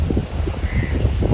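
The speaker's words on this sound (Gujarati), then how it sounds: "કાગડા બહુ હોય ગોવામાં" Crows in a jungle-like area of South Goa give a short caw over steady, rumbling wind noise outdoors.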